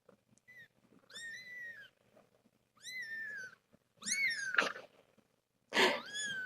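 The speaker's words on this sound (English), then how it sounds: "She always has to check the other kittens when one makes a squawk." A tiny kitten gives several short, high squawking meows in separate bursts, close and fairly soft against a quiet background.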